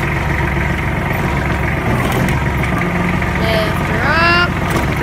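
A tractor's diesel engine idles with a steady low rumble while its loader bucket is lifted, with a rising hydraulic whine near the end and a person speaking over the noise.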